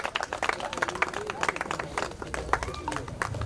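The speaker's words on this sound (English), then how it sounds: "Now you can give a big round of applause to all the" An audience claps at a 4th of July Independence Day celebration, with a dense, steady patter of hands over a murmur of voices that runs throughout.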